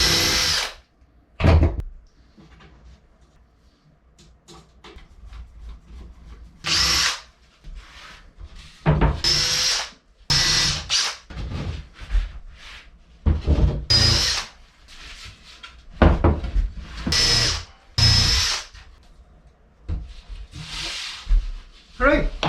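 A power drill drives screws into wooden boat steps during a dry test fit. It comes in loud, repeated bursts of whirring separated by quiet pauses, with occasional talk.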